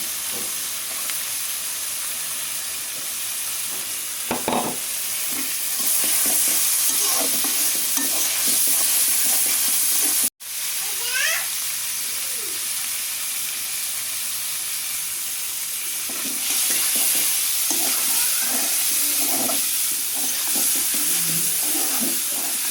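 Onions and green chillies fry in oil in a pan, a steady sizzling hiss with stirring scrapes that swell louder mid-clip, broken by a brief cut, with faint background noises but no speech.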